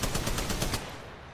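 A quick burst of automatic gunfire in Apex Legends, evenly spaced rapid shots for under a second that then trail off into a fading echo.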